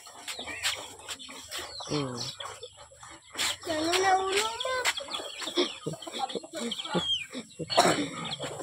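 Chickens cluck and call in short bursts around a person speaking, with scattered farmyard noises in the background.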